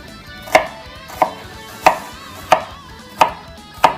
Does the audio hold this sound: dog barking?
no